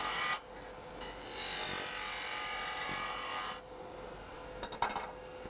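Wood being turned on a lathe for a pencil box, a steady close scraping hiss of a cutting tool against the spinning blank, stopping partway with a few light knocks afterward.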